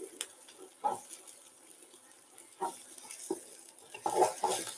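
A spoon stirs lentil soup in a pot, giving faint, irregular scrapes and light clinks against the metal under a quiet bubbling hiss, close but soft, with no talking.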